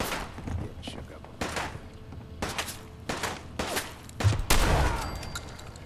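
Silenced sniper rifle shots in the Fallout video game, several sharp muffled cracks spaced a second or so apart, with quiet voices underneath.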